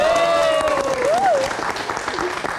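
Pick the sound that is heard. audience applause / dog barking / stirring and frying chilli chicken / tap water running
audience applause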